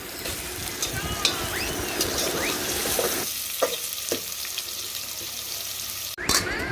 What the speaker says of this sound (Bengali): একটু ভালোভাবে ভাজতে হবে ভিউয়ার্স পেঁয়াজটা।